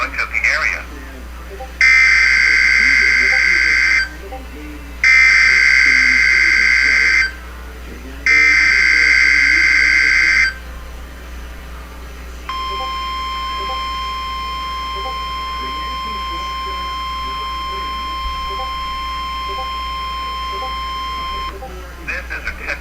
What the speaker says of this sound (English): This is a test of NOAA Weather Radio's warning device.